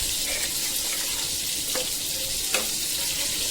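Ground spice paste, soaked in water, sizzles and fries steadily in a pan, with a couple of brief stirring scrapes cutting through the continuous hiss; no one speaks.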